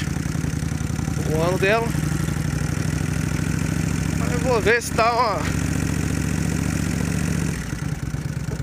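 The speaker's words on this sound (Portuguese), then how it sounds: "Achou que era Intruder, mas é a Vulcan 1500, concorrente da Intruder." A 1997 Kawasaki Vulcan 1500 motorcycle idles steadily with a low, even rumble throughout, while someone talks over it in bursts near the start and middle.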